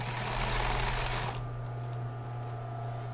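Sewing machine stitching a bra strap on a maternity nursing bra, a fast steady whirring buzz close up that stops abruptly after about a second and a half, leaving a low motor hum.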